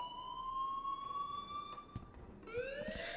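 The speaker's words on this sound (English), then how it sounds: "please turn off that alarm since that's your job" In the game Life is Strange, an electronic alarm wails steadily as a continuous siren-like tone, cutting out briefly and then rising again with a sweeping pitch, fairly loud and without speech.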